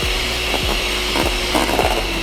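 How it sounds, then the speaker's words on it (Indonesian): An electric mixer briefly beats chocolate cake batter, a steady mechanical whir up close broken by rhythmic clicking pulses. "kita aduk menggunakan mixer sebentar saja"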